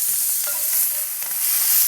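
Brandy poured into a hot frying pan of browned duck livers, a loud, close, steady hiss and sizzle lasting the whole moment with no voices.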